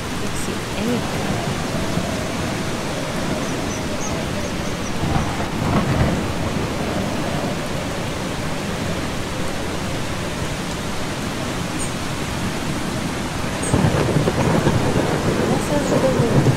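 Thunderstorm with steady heavy rain in the video game Eastshade, a dense continuous hiss with low rumbling thunder swelling around the middle and a louder surge of rain near the end, no voices.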